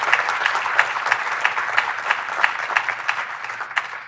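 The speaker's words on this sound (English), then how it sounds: "I think they deserve an applause." Conference audience applause, dense clapping with a few sharper individual claps standing out, sustained and fairly loud for the full few seconds.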